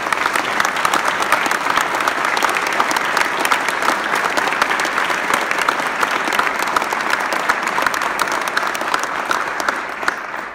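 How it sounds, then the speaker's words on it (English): Steady, dense applause from a large audience honoring a firefighter's son, an FDNY EMS member, at a key-to-the-city ceremony; loud and continuous for the whole stretch with no talk over it. "Let's give him a round of applause."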